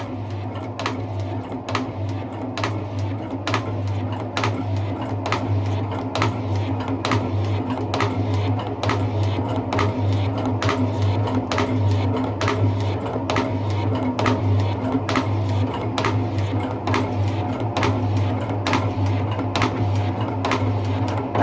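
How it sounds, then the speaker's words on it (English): A 10-inch metal shaper machining a 9-inch steel bar, a steady mechanical hum with regular clacking strokes repeating about once a second, continuous and close in a home shed. "This is a 9-inch long bar in a 10-inch shaper."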